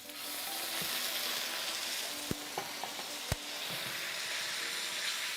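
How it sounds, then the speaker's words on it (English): Beef frying in rapeseed oil in a pan gives a steady, even sizzle and hiss, with a few faint clicks and taps of utensils in between, and no voices. "And in we go with our beef."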